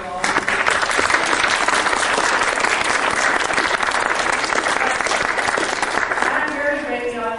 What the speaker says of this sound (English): I think he deserves a big round of applause for his dedication overall.